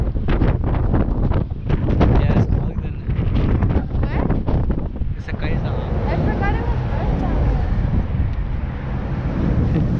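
Strong wind buffets the microphone of a rider on a BMX bike in city traffic, a steady, loud, rumbling roar with gusty bursts and no clear speech.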